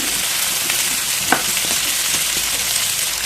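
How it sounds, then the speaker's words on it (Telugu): Drumsticks frying in a pan with onions and broad beans for an egg and tomato curry, giving a steady close sizzle with a few light stirring scrapes and a small clack. "ములక్కాయలు కూడా బాగా వేయించుకుందాం."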